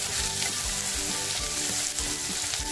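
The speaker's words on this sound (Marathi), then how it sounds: "कांदा मस्त फ्राय करून घ्यायचं" Onion frying in oil for a village-style mutton rassa, a steady close sizzle with scattered crackles and soft stirring knocks running throughout.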